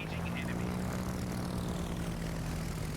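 German carrier Graf Zeppelin's aircraft in World of Warships give off a steady, moderately quiet propeller drone. The low engine hum holds even throughout, with no pauses or talk.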